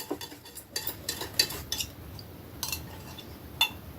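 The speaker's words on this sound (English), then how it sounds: "After a while, give it a slight stir." Spoon clinking against a glass while stirring lemonade, a few light scattered chinks and taps over a quiet background, close by and alone.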